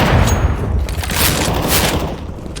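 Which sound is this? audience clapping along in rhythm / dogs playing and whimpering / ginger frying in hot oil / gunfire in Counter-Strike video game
gunfire in Counter-Strike video game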